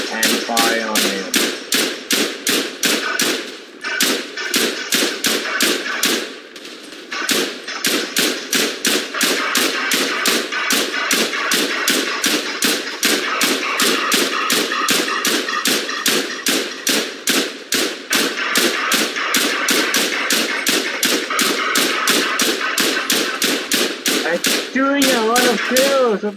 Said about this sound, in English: Kills of this machine gun.